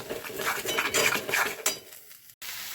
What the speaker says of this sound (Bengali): এবার এই কাঁচা লঙ্কা বাটা আর পটল বাটাটা দিয়ে ভালো করে কষাতে হবে ধিমে আঁচে, যাতে লেগে না যায়।